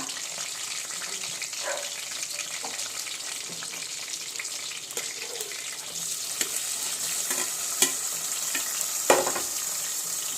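Steady sizzling of mustard seeds frying in hot oil, with scattered pops and crackles throughout, close up.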